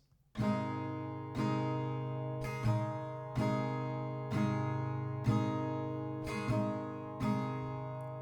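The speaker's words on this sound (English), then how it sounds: "But the strumming pattern is down, down, up, down, down." An acoustic guitar strums chords in a steady down-down-up pattern, each stroke ringing bright and close, about one strum per second, with no talking.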